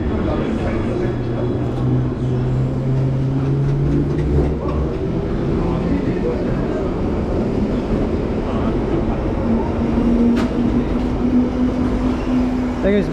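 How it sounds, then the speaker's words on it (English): A London Underground Bakerloo line train departs Willesden Junction station: loud, low rumbling and rolling wheel noise with a rising electric motor whine that shifts in pitch as the train pulls away. "There goes the Bakerloo line train heading to Elephant Castle"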